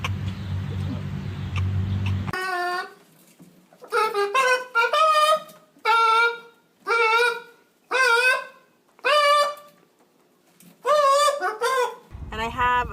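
A large bird perched on a car gives loud, close, nasal honks in a steady series of about eight calls, roughly one per second, after a few seconds of low rumbling background.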